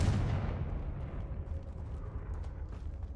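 Confringo fire spell blast in Hogwarts Legacy: a single loud, booming burst at the start that decays into a low rumbling tail, with no talk.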